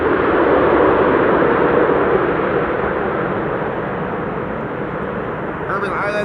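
Airbus A330 airliner rolling or passing at Amsterdam Schiphol Airport, a broad steady jet roar that gradually eases, heard up close with a brief voice near the end.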